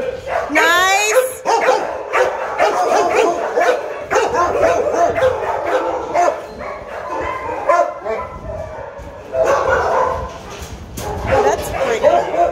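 Several dogs bark, yip and whimper at close range in what sounds like a humane society dog kennel, with repeated sharp barks running throughout under steady conversation among people nearby.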